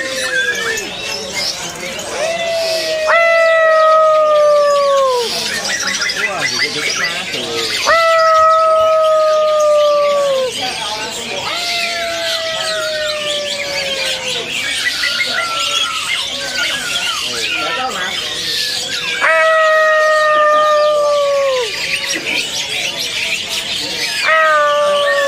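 Caged songbirds at a bird shop kiosk, among them a female white-cheeked Hong Kong bird and magpie robins, give repeated clear whistled calls and chirps over a busy, noisy background, with people talking throughout.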